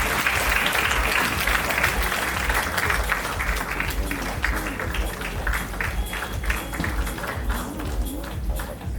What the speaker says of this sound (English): Let's have a big round of applause for Sid.